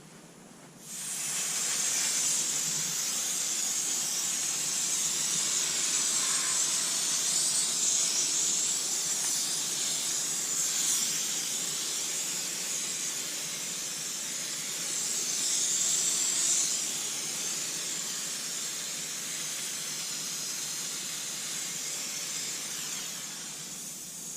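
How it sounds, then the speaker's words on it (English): Water spray hissing steadily as a boat is rinsed down after stain removal, a broad continuous rush that swells slightly midway and runs alone without talk. "now we're just going to rinse it down"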